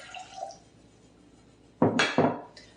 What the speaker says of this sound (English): So we're going to add the 1 1/4 cups of water